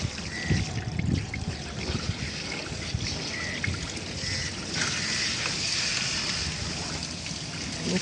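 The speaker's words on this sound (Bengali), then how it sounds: "এখানে দেখছি যে ইউনিয়নের গুঁড়া দিয়ে পানি পড়ছে।" Water trickles and drips steadily from a leaking pipe union with a faulty rubber seal, a soft continuous splashing with faint background noise and no talking.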